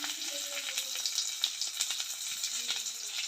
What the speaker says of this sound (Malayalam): ഇനി ഇതിലോട്ട് നമുക്ക് കുറച്ച് കറിവേപ്പില ഇട്ട് കൊടുക്കാം